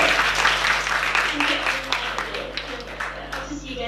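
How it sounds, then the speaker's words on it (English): An audience applauds at a public meeting on protecting local commons and community livelihoods, a steady wash of clapping that fades gradually over a few seconds while voices carry on underneath. "Give her a round of applause."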